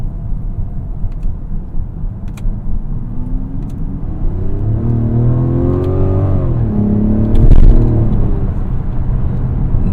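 A 2025 Mazda CX-70 accelerates hard, its engine rising and dropping in pitch through gear changes, a steady loud drone with a swell near the end and no talking.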